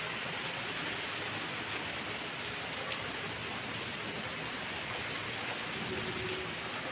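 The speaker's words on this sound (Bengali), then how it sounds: "এই দেখো কি বৃষ্টি হচ্ছে" Steady rain pours down outside a home, a dense even hiss throughout with no breaks.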